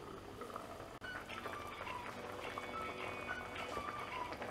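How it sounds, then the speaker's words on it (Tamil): Prawn and quail egg curry with drumstick and potato bubbles in a covered pot on the stove, a steady soft simmering hiss with faint bubbling pops throughout. "குழம்பு வந்து நல்லா கொதிச்சிருச்சு."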